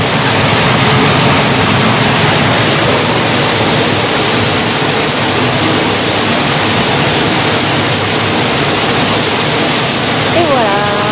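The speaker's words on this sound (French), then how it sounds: "où se jette l'eau qui arrive sous la maison" Water pours into a mill channel beneath a house, a loud, steady roaring rush with no breaks, close up and filling the space.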